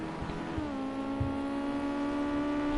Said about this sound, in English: Quite a high revving little motor, as you can hear.